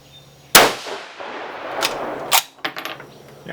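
A single loud rifle shot from a 6mm GT hunting rifle, a sharp crack with a ringing decay, followed by a few fainter clinks and clicks.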